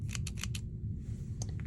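A pair of scissors snips and clicks about five times in quick succession close to the microphone, then gives a couple more small clicks over a low background hum.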